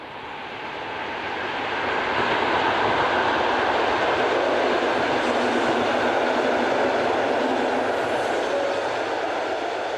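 Polish-built suburban train sets rolling past on a French line: a broad, steady rumbling roar that swells over the first two seconds and then holds loud and continuous, with no voices.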